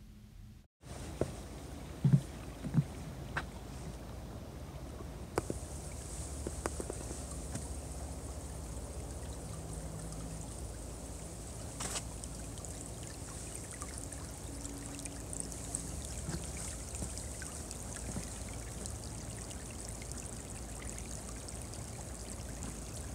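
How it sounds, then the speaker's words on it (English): A small stream flows beneath a forest trail, giving a steady, continuous trickling and babbling wash at moderate volume, with a few faint knocks and no voices throughout. "This has got a little stream that goes right underneath."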